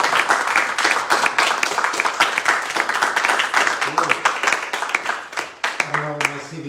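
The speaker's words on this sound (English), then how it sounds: "Give him a round of applause." A crowd at a poetry reading claps loudly and steadily in welcome, with cheers mixed in, before a voice begins speaking as the applause thins at the end.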